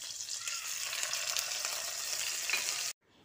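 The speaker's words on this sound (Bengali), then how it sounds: "এবার আদা জিরে ও কাঁচা লঙ্কাটাকে কয়েক সেকেন্ড ভেজে নিচ্ছি" Whole cumin, slit green chillies and ginger paste frying in hot oil, giving a bright, dense, steady sizzle with faint stirring that stops abruptly near the end.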